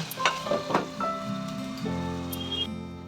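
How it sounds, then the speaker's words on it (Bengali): Gram flour stirred into a sizzling spice paste in a pan for a soybean curry, with soft scraping strokes over a steady close frying hiss and a few brief clinks. "এবারে আমি দুই চা চামচ আবার বেসন দিয়ে দিচ্ছি দিয়ে আবার মশলাটা কষিয়ে নেব"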